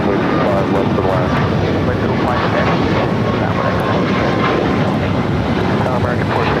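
Airplane landing on runway 25 left at LAX, a steady broadband engine roar holding loud and continuous throughout, with radio and voice chatter faintly mixed beneath.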